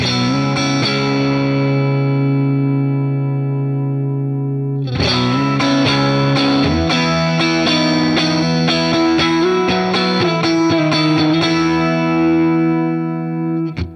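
An electric guitar through a Fender Tone Master Pro with a shimmering chorus effect into a Deluxe amp model: a sustained chord rings out, then a new strummed chord and a run of picked notes, bright and close.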